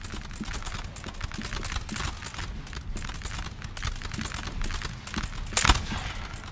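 Musket volleys in Napoleonic Total War aimed at a building, heard as dense crackling bursts of rapid shots that go on without a break, with one sharper crack near the end.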